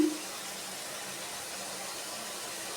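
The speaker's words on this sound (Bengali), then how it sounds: "আর এই মিক্সি ধোয়া জলটা আমি দিয়ে দিলাম" Mixer rinse water poured into masala cooking in a pan for a home-style omelette curry, a soft steady wash of sizzle and splashing throughout, faint and close.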